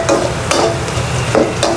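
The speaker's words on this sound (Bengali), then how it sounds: "এখানে পেঁয়াজটা সুন্দর করে ভাজা ভাজা করে নিচ্ছি।" Onions fry in a cooking pot, hissing and crackling steadily as a utensil stirs and scrapes in a few short strokes, close and moderately loud with no talk.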